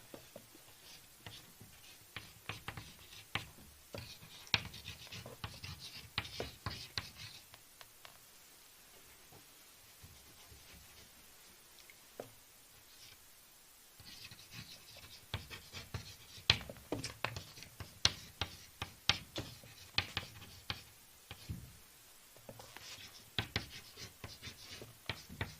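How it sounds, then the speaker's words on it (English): Chalk or marker scratching across a classroom board as a title is written in a biology lesson, a long run of quick, light strokes with brief pauses, close and faint against low room noise. "So I'll write the title on the board."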